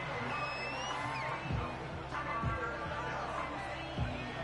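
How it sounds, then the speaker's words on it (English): Stadium crowd in the Madden 25 football video game: a steady, broad roar of fans filling the background, with low thumps and faint tonal game sounds layered over it. "This crowd turning up the decibel level."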